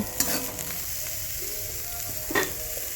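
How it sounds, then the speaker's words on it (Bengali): Curry sizzling gently in a pan as it is stirred before coming off the heat, a soft continuous fry with two sharp spatula clinks against the metal, no speech. "আমি এবার নেড়ে চেড়ে নামিয়ে নেব"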